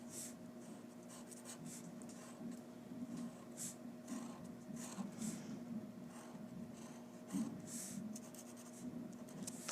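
A pencil scratches out a one-point perspective drawing on paper, sketching a box-like shape, with steady faint scraping strokes in short repeated bursts, close and quiet with no talking.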